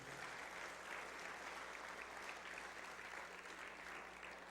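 Church congregation applauding during a sermon, a dense, even wash of many hands clapping that holds steady through the whole stretch, heard at a moderate distance with no voices over it.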